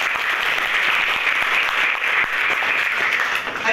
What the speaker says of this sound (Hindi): तो बजाओ तालियां मैडम के लिए।